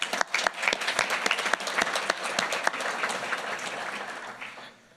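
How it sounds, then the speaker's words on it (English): A council meeting audience gives a short round of applause, a dense burst of many hands clapping up close that holds steady and then tapers off to quiet. "Give him a little round of applause."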